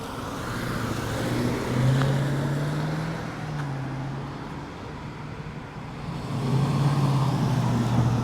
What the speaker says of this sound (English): that truck comes roaring off